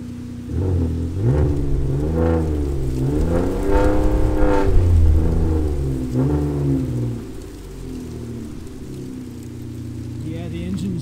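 A 2015 Ford Taurus Limited engine revs several times after a cold start in extreme cold, close and loud, before settling into a steady idle, with a voice heard over it.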